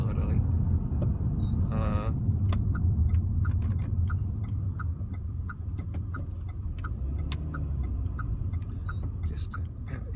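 A bus passes along the road outside, its low engine rumble rolling by beneath a steady ticking sound, with a person talking nearby.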